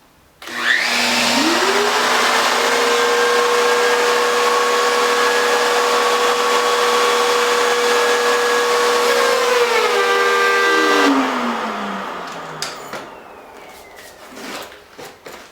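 A wood router spins up and runs steadily for about ten seconds while cutting a dado rabbet in wood, a loud continuous whine, then winds down with a falling pitch and fades into quiet handling noises.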